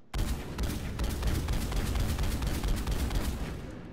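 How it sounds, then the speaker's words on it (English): Striker assault rifle firing in the video game Mass Effect 3, a sustained barrage of rapid, booming grenade-like shots that run together into dense continuous gunfire, loud and close. "It fires kind of like mini grenades and speeds up as you hold the trigger now."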